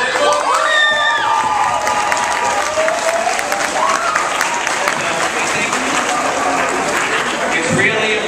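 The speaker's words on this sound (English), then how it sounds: "So let's have one more great round of applause." Loud applause and cheering from students and staff at a college acceptance celebration assembly for a graduating high school class in Baltimore, with shouts and whoops rising over dense clapping, a crowd roaring throughout.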